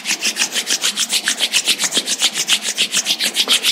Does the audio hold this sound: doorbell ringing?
no